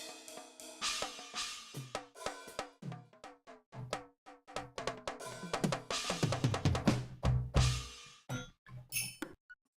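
Assorted percussion from the PreSonus Presence XT soft synth in Studio One, a quick run of struck drum and percussion hits in varied, uneven rhythm, dry and close with no voices.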